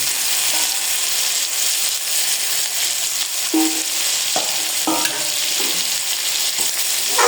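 Mutton fries with onions in a karahi, giving a steady, close sizzle broken by several scraping stirs of a spoon against the pan.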